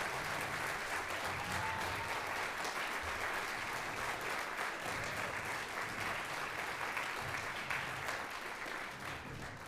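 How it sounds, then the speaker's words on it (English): Audience applause at a school band and orchestra concert, a steady dense wash of clapping from a large crowd that fills the hall and holds without a break. "a big round of applause"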